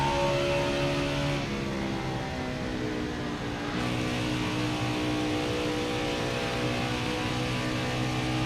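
Sustained race car engine from the NASCAR Heat 5 video game at Kentucky, a steady loud drone with shifting pitch as the car is pushed through the corners, heard alone without talk.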